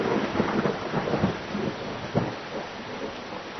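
Steady heavy rainfall with a rumble of thunder, a radio drama sound effect on a stormy night, with a sharper thunder crack near the middle, continuous and fairly loud with no talk over it.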